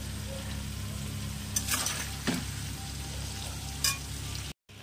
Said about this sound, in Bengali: এখানে মশলা কষানো হচ্ছে